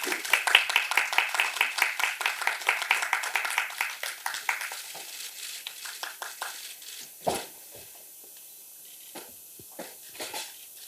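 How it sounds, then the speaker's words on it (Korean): Audience applause greeting performers at a Korean musical film press screening: a burst of close, scattered hand claps for about four seconds, then thinning to a few isolated claps and taps. "뜨거운 박수로 맞아주시기 바랍니다"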